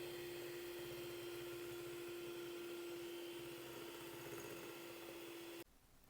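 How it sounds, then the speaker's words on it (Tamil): An electric hand beater whisks egg whites with sugar for a tea cake, a steady loud motor whine with a constant high pitch running unbroken for over five seconds before cutting off abruptly near the end. "நாங்கள் அந்த முட்டை வெள்ளைக்கருவும் சீனியும் சேர்த்து நல்லா இப்படி அடித்து விடணும்"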